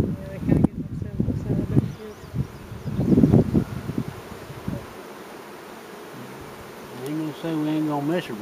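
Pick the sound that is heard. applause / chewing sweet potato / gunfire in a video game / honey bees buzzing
honey bees buzzing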